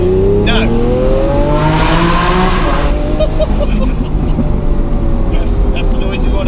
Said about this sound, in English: That's the noise we want to hear.